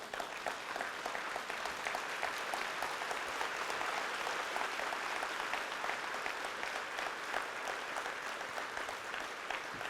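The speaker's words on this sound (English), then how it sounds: "give a big applause." An audience at a talk applauds in a sustained, dense burst of many hands clapping, steady and fairly distant, with no speech over it.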